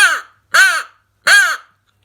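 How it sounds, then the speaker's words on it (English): A reed crow call is blown three times, giving loud, close, deep and raspy caws, each a short burst separated by brief silences. "Now you should be able to hear the deeper, raspier sound in it."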